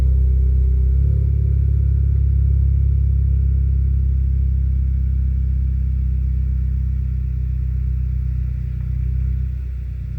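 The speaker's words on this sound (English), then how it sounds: "It's making some sounds. It's got a downpipe, guys, and no silencers." Car engine fitted with a downpipe and no silencers, paired with a DSG7 DQ200 gearbox, idling with a deep, steady rumble that drops slightly near the end, loud and close with no speech.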